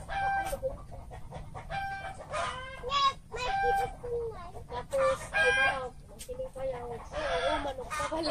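A native chicken rooster crows loudly several times amid steady clucking from nearby chickens, with a low background rumble throughout, on a farm.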